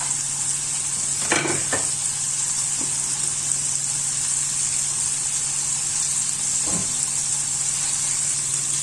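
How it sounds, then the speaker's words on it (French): Meat rolls browning in a frying pan give a steady, close sizzle throughout, with a few brief clatters of a utensil or pan near the start and again later. "Je le fais dorer sur un côté et après doucement on tourne l'autre côté."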